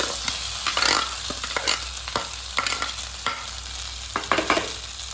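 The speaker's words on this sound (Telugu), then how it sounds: "బ్రౌనిష్ అయ్యాక క్రంచ్ చేసుకున్న చికెన్ వేసుకోవాలి" Crushed chicken fries in a pan with browned curry leaves, a close, steady sizzle broken by repeated scraping stirs. Nobody speaks.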